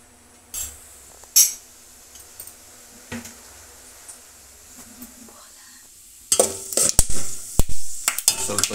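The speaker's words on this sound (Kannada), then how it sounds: "ಉಪ್ಪಿಟ್ಟಿಗೆ ಎಣ್ಣೆಯನ್ನು ಹಾಕೋತಾ ಇದ್ದೇವೆ" Oil heating in a pan for upma gives a faint sizzle under scattered clinks and stirring, and it grows louder and busier near the end with sharp utensil knocks. Low speech can be heard at times.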